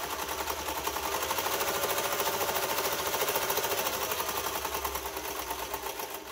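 A Singer 431G sewing machine running steadily, its needle moving back and forth in a fast, even mechanical chatter with a low motor hum, continuous and close throughout.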